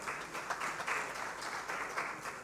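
An audience at a festival session applauds, giving dense, steady clapping from many hands that swells and dips slightly over a couple of seconds, with no speech.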